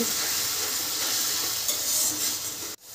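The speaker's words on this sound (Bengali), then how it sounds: "এবার আবারও ভালো করে এটাকে নাড়িয়ে নিচ্ছি। এবার সামান্য একটু জল দিয়ে মশলাটাকে কষিয়ে নেব" Steady sizzle and scraping stir of spices frying with turmeric and chili powder in a pan for a Bengali egg-potato curry, a continuous close hiss that cuts off sharply near the end.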